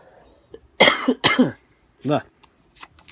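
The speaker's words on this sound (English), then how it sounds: "Sorry about the coughing" A few harsh, close coughs in quick succession, then a pause and a brief voice.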